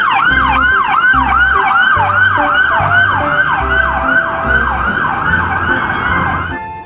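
A toy police car plays a loud electronic siren, rapid repeating wails over a steady pulsing beat, close and alone.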